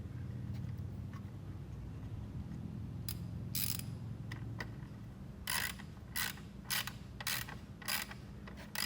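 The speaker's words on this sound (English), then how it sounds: "instead of using an impact, I'm going to use the socket" A socket wrench tightens a car battery terminal on a 2017 Chevy Malibu, its ratchet clicking in short bursts of rapid ticks over a low background hum, close and fairly quiet.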